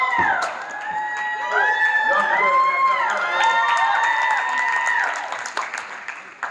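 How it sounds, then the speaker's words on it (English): A convention panel audience in Chicago applauds and cheers for a guest, with sustained clapping under loud whoops and shouts from the crowd. It fades toward the end while a voice speaks briefly. "I want y'all to clap it up for Josh"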